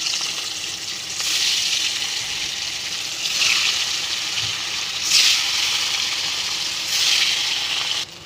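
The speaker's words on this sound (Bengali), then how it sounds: "তুলে নিয়ে এই তেলেই আবার মাছ ছেড়ে দেবো" Pieces of katla fish sizzle in hot oil in a frying pan, making a steady crackling hiss that swells in several bursts as more pieces go in, with no talking.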